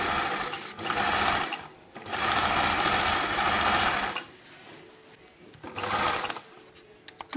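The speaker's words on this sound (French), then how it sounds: "maintenant on va coudre" A domestic sewing machine stitches the collar seam of a kimono jacket in several loud, close bursts of rapid mechanical whirring, broken by short pauses and a few small clicks.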